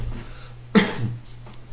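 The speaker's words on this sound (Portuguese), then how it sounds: "Desculpa, eu tô com uma tosse, tô sarando aqui" A single cough from a man recovering from an illness, one short burst close to the microphone against a steady low hum, with a faint softer throat sound after it.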